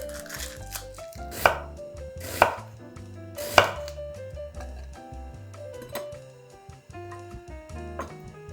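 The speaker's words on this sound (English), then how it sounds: "Slice the green pepper. Then thinly slice half of the purple onion." A knife slices green pepper and purple onion on a cutting board, giving a few sharp, loud chops spaced about a second apart over soft background music.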